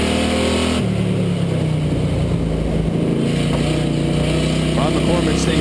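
Factory stock race cars roar around Wall Stadium Speedway, a steady loud engine drone filling the clip, with a race announcer talking over it throughout.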